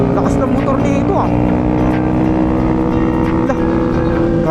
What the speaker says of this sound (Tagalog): Lakas ng motor nito ah.